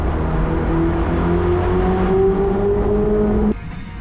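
Ferrari 488 Spider engine rising in pitch as it accelerates through a road tunnel, a loud sustained climbing rev with echoing reverberation, then dropping abruptly near the end as the throttle lifts.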